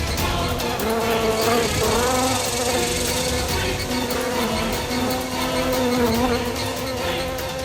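A fly buzzes close by in a steady, wavering drone that rises and falls in pitch, loud and continuous with no talk over it.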